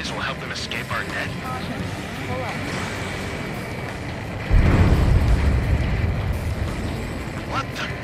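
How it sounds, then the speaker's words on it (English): A huge underwater explosion in the combat flight game Ace Combat 7 lands as a sudden deep, rumbling boom over continuous engine and battle noise, fading slowly while radio voices talk throughout. "A huge explosion just went off underwater."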